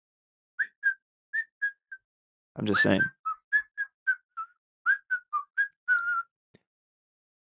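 A person whistles a tune alone in a quiet room: a string of short, clear, close notes, with a brief burst of other noise partway through and a few spoken words at the end.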